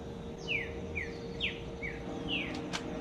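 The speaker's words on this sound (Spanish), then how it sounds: "Mira, hay un pajarito." A small bird chirps outdoors, five quick bright descending tweets spaced about half a second apart, moderately near over a steady low background hum.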